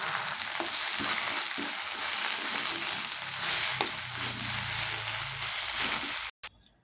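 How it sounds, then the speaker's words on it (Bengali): Taro leaves fry in a pan over a high gas flame, giving a close, steady sizzle with occasional stirring scrapes for about six seconds before ending in a sudden clatter. "গ্যাসের ফ্লেমটা হাই করে কচু পাতাটা একটু ভেজে নেব"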